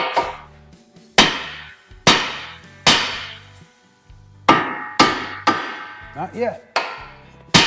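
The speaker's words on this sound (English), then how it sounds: "We're gonna strike this knuckle here so that we can release the bond that's got on that tie rod end." A hammer strikes the steel steering knuckle of a Honda Pilot to break loose a seized tie rod end, about nine sharp metallic blows with ringing decay, spaced roughly a second apart; someone briefly speaks near the end.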